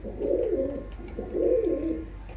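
A yellow-eyed male breeder pigeon of a low-flyer kabootar breed coos twice, each a soft, low, rolling phrase close by, with a short pause between them against quiet surroundings.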